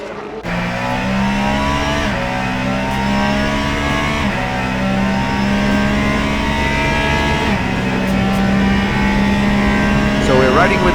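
Isotta race car engine droning steadily at night in the Le Mans Ultimate racing game, with a loud, sustained roar and shifting pitch as the car runs flat out down a long back straight.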